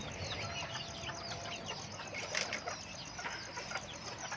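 Free-range fighting-breed chickens cluck steadily, mid-distance, among soft yard ambience with occasional wing flaps.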